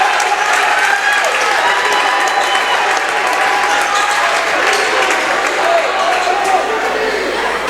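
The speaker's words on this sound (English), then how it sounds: "A nice hand from the home crowd." Home crowd applauding in a high school basketball gym during a Portland versus Oxford Hills varsity boys' game, steady sustained clapping across the whole stretch with crowd murmur and an announcer talking over it.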